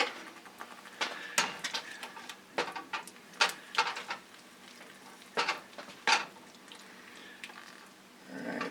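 Cubed cream cheese is stirred in a bowl for a pumpkin spice cheesecake ice cream base, making irregular wet scrapes and soft knocks of the utensil close by, with no talking.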